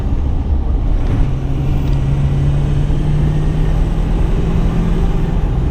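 Steady low engine drone and road rumble fill an uninsulated Ford truck cabin, loud and constant, with a droning hum throughout and no talking.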